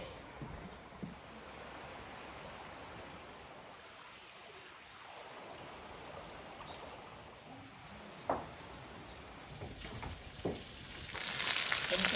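Fish cooking in oil in a pot over a wood fire, a steady crackling sizzle heard close up with a few louder pops and stirring clatters, building in intensity toward the end.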